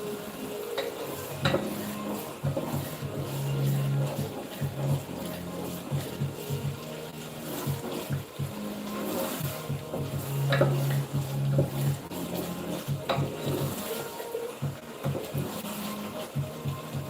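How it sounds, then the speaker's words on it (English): Tomato and onion sizzle steadily in a frying pan, with intermittent scraping and stirring clatter of a utensil against the pan throughout. "I'm just frying it up."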